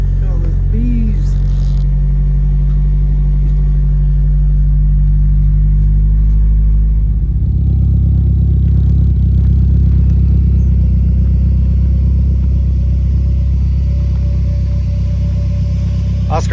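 A 2JZ-swapped Toyota GX100 Chaser engine runs loud and steady alongside high-pitched whining cooling fans, with the engine note dropping partway through and continuing as a sustained rumble throughout.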